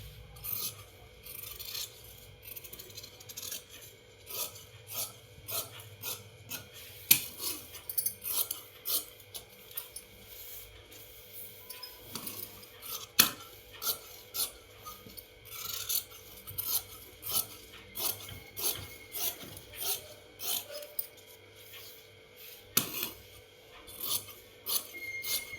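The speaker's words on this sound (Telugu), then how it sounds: "ఇప్పుడు ముందు భాగం కటింగు." Scissors cut the front panel of cross-cut blouse fabric in a quick series of close, crisp snipping and rasping strokes, irregular in rhythm and moderately quiet.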